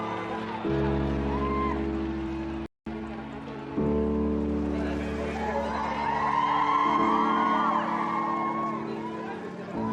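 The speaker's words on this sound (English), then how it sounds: "Everyone was screaming, trying to get the pictures and videos." Large crowd outside St. Mary's Hospital shouting and screaming as the royal family emerges, a loud continuous mass of voices with rising whoops and cheers, briefly cut out near the third second.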